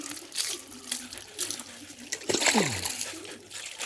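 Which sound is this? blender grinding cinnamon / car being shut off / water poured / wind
water poured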